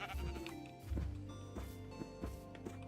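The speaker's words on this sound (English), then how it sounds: "Sheep!" Blocky sheep in a Minecraft game bleat several times over a busy layer of game music and ambient sound, the calls short and moderately loud.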